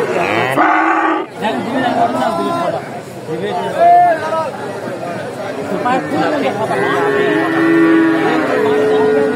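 Cattle low and moo repeatedly amid the crowd at the Dakumara livestock market in Bogura, with heifers and calves for sale, several calls rising over constant chatter and nearby talk.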